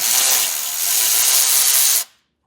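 A power tool runs steadily for about two seconds, loosening the emergency brake line bolt on a 2025 truck during an air helper spring install, then cuts off abruptly into silence.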